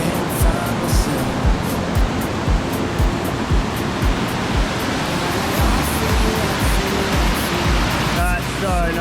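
Wangi Falls waterfall in Litchfield National Park in the wet season, a loud continuous broadband roar of falling water heard up close, steady throughout with a brief voice near the end.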